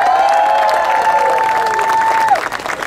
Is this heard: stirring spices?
no